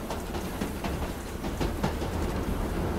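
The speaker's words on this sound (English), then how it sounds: "I need to wait for the train to get out of this tunnel" A video-game train rumbles past with a dense, continuous roar and faint rhythmic clatter, fairly loud and steady throughout, with no voices.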